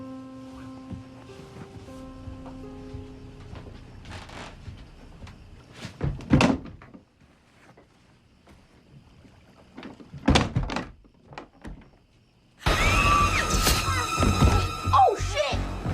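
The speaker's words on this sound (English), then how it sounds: "Can you close the closet door?" A closet door swings shut with a solid thud, followed by another knock a few seconds later, in the middle of quiet background sound and a burst of louder noise at the end.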